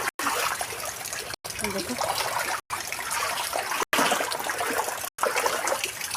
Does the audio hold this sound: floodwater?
yes